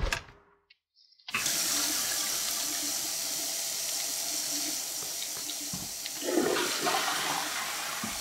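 Steady rush of shower water running in the video game Prey, starting after a brief near-silent gap and continuing as a constant broadband hiss, with a louder splashy swell near the end.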